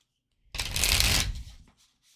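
A single quick riffle of a deck of oracle cards being shuffled, close and crisp, lasting about a second before it falls quiet.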